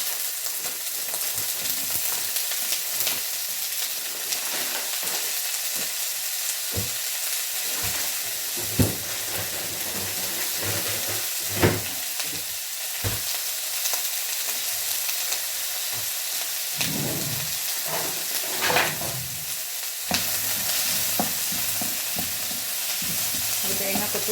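Coconut pieces frying and being stirred in a pan for a Kerala pulissery dish, a steady close sizzle with scattered louder scrapes and clatters of the spoon, no talking.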